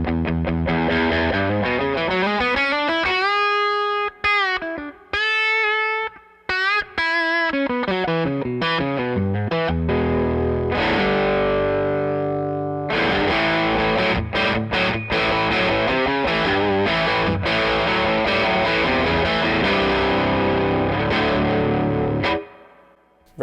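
An electric guitar plays through a Jim Kelley Single Channel Reverb amp with the bright and mid boost switches on, giving a loud, distorted sound with sliding bends, chords and sustained notes that run unbroken, with no talk, before a final cutoff.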